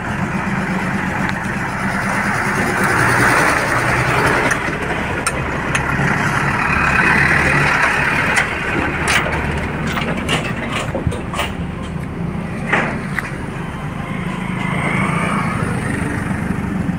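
Trucks and other vehicles idle and roll past at a bridge construction site beside an old British-era single-lane bridge, a steady engine rumble with scattered clanks and knocks, no talk.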